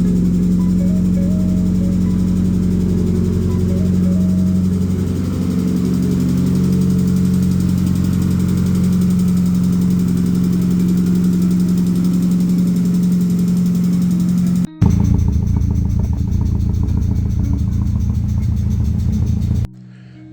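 An engine that has just been started idles loudly and steadily up close with a deep, even drone. Near the end the sound shifts to a rougher, rattling run and then cuts off.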